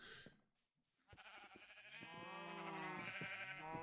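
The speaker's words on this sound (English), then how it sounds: "Oh, okay, we got some sheep pens over here." Sheep in a Minecraft-style video game bleat in a pen, a few drawn-out wavering calls rising and overlapping, clear and close with no talk.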